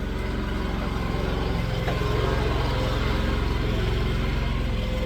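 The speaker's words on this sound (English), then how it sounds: "That's Brocco on the dingo" A mini digger's diesel engine runs steadily nearby on a dairy farm, a low continuous rumble and chug that holds unchanged throughout, with no voices.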